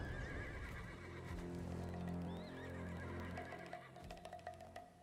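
Horses in the game Black Desert Online whinny and neigh in a grassy field, a couple of quavering calls over soft hoof clops and ambient game sound, moderately near.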